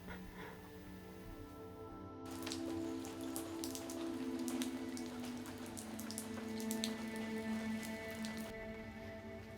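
Heavy rain pours steadily on the remote Tokara island of Akusekijima, a dense, even hiss of drops on surfaces that keeps up throughout without letting up.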